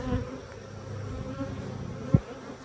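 Honey bees hum steadily around an open, crowded beehive, a close continuous buzz with one brief louder thump near the end.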